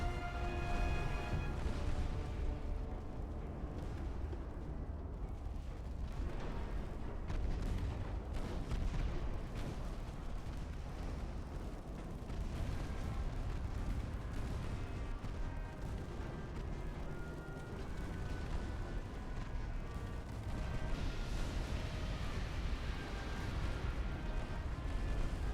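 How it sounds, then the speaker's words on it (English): Heavy naval guns boom repeatedly in the warship game Ultimate Admiral: Dreadnoughts, dense overlapping low rumbling blasts that continue without pause for the whole stretch, loud and unbroken. "all these guns firing, they ain't they ain't gonna be able to do much"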